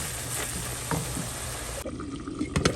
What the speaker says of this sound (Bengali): আবারও চিকেনটা ধুয়ে নিচ্ছি ভালো করে